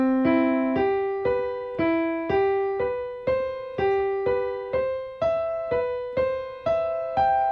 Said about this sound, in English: now play them in a broken fashion or arpeggiated fashion